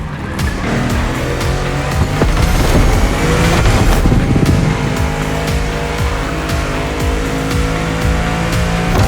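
A supercar from The Crew Motorfest racing game drives hard with a loud, steady engine roar, revving and shifting through gears alongside tire noise and music for the full stretch, with no talking.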